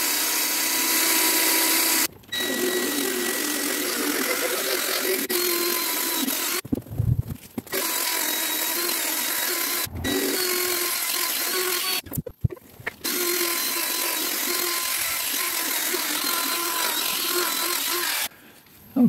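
A power polisher with a foam pad buffs the cloudy plastic headlight of a Volvo XC90, a loud, steady whirring drone broken by several short stops and restarts, with no talking.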